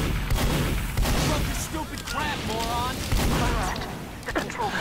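Scattergun shots and gunfire in Team Fortress 2 gameplay, a dense run of loud bursts and booms mixed with game sound effects and a chirping tone, all close and continuous.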